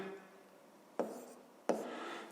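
A pen writes out a math solution on paper, soft scratchy strokes in a quiet room, with two sharper taps or strokes landing about a second apart.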